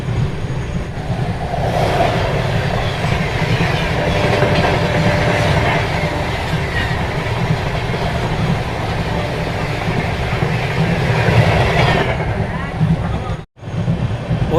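Train on the Rohtak–Kamakhya Amrit Bharat run speeding through heavy rain near Rangiya, a loud continuous rumble and clatter of carriages with rain hiss, a brief dip near the end.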